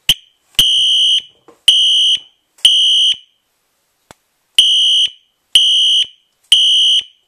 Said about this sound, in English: So, what we have here is a Wheelock exceeder, aka SHR, with Wheelock RSS strobe right here.